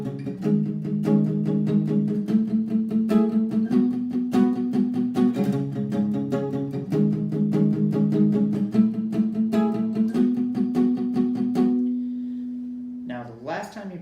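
Electric guitar riffs from a song, lesson-style with palm-muted parts, repeat steadily for about twelve seconds of continuous picked notes, then stop briefly before a short final strum.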